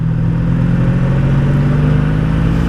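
A 1984 Honda V65 Sabre VF1100S motorcycle engine runs steadily up close, a loud, continuous low rumble with a strong even drone and no talk.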